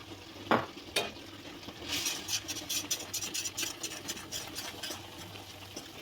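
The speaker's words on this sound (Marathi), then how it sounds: "आणि एकसाथ फिरवायचं आहे, म्हणजे गुठळ्या होणार नाही याची दक्षता घ्यायची." Gram flour being stirred into boiling water in a pan for zunka, a few sharp clinks of a utensil followed by a run of rhythmic scraping and stirring strokes, moderately close and fairly soft.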